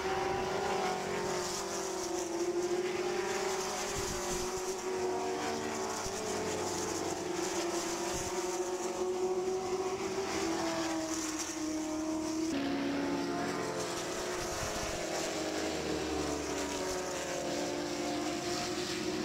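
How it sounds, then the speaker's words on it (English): Ford GT40 race cars at the Goodwood Revival Whitsun Trophy one-make race, loud V8 engines roaring steadily with rising and falling pitch as the cars pass and chase each other around the circuit. "car number 37 of Philip Walker and Mike Jordan was fighting hard with car number 5 of Adrian Newey"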